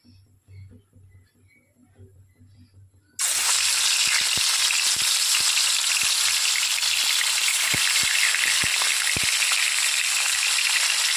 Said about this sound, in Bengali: তেলটা গরম হোক, তারপর আমি মাছগুলো দিয়ে একে একে ভেজে নেব।